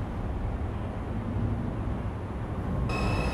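A Bronx-bound 4 Express subway train on the Lexington Avenue line runs with a continuous, loud rumbling roar, and a brief high tone sounds near the end.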